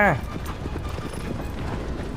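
A horse gallops in the video game Shadow of the Colossus, with rapid, steady hoofbeats running throughout under loud, excited talking.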